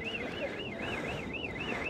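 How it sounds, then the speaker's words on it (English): Alarm sounding behind a restricted VIP-only door at the California Academy of Sciences museum, a loud, continuous warbling electronic tone rising and falling about every quarter second over a dense hum of room noise. "That's an alarm."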